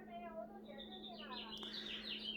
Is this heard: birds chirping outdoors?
yes